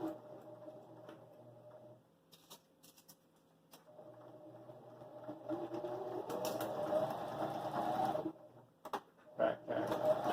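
A Husqvarna Viking Emerald 118 sewing machine sewing through heavy jeans material, its motor humming and the needle ticking rapidly, starting and stopping and building toward the end, close and fairly quiet with no talking.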